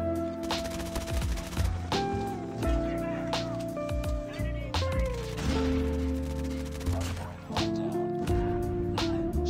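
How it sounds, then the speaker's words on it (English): Bursts of QQ9 submachine gun fire in Call of Duty Mobile, rapid repeated shots over dense game music and action sounds, continuous and loud throughout. "Here's my gunsmith of the QQ9."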